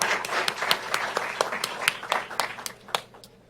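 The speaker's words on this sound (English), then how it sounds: "So round of applause," Scattered applause from a small audience at a department of surgery graduation ceremony, a handful of distinct claps spread irregularly through a modest, fairly quiet room.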